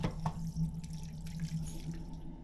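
A train toilet tap on an Italian high-speed train runs with a steady trickle of water, soft drips and splashes over a low hum, close by and fairly quiet.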